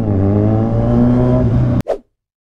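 A BYD electric sports car, Philippine version, gives a loud, steady, humming engine-like drone that holds level and then cuts off abruptly, followed by a short whooshing burst.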